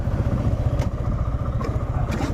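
Motorcycle ridden along a foggy road near Thanchi in Bandarban, a steady low engine drone with rhythmic mechanical pulsing and a few brief clattering bumps, close and unbroken.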